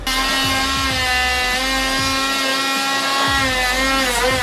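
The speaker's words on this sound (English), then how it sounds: "Pretty much just got as much as the rust out of here that I could with the wire wheel with my cordless grinder" A cordless grinder fitted with a wire wheel scrubs rust from a Nissan Silvia's metal, giving a continuous high whirring whine with a rough scraping edge that dips and recovers under varying load.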